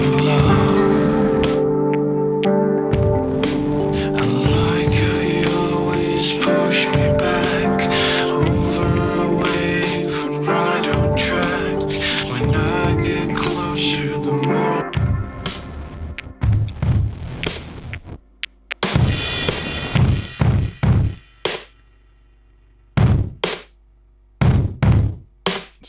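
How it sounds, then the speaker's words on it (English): Heavily distorted, aggressive drums and percussion from a self-produced song, with loud thudding hits over sustained tones that later break into punchy bursts separated by sudden silences. "the drums are like very distorted and aggressive, because I wanted them to have weight, lots and lots of weight"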